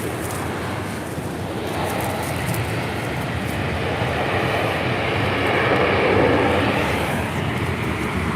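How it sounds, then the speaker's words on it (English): A United Airlines A320 arriving at Los Angeles LAX from Tampa, Florida gives a steady broadband engine rush that swells slightly toward the end, distant and continuous with no talk. "That was coming in from Tampa, Florida. United Airlines flight 2614 on that A320."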